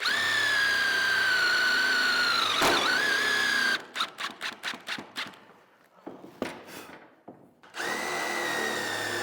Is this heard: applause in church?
no